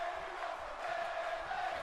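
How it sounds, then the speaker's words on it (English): Arena crowd noise from WWE 2K17 during a Bayley versus Asuka match, a steady roar of fans chanting in support of Bayley, continuous and fairly loud with no talk over it. "the crowd chanting that they want Bayley to win"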